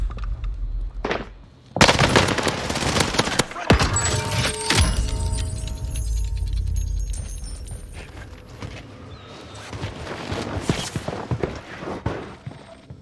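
Gunfire in the Warzone battle royale game, loud bursts and sharp shots cracking repeatedly over several seconds, with rattling impacts and busy in-game action throughout.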